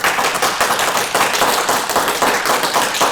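A convention panel audience claps in a dense, irregular patter, many hands at once, loud and close without any voices.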